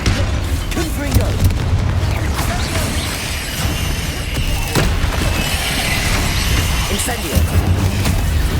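A Confringo explosive spell cast in Hogwarts Legacy, heard as heavy booms and blasts within a dense, continuous wash of loud game noise, with sharper impacts scattered throughout.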